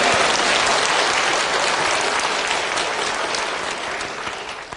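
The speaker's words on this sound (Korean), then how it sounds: "하나님께 감사의 영광의 박수를 힘차게 하고 합시다." A church congregation at a Calvary church claps loudly and vigorously in thanks to God, a thick, sustained roar of many hands that gradually tapers toward the end.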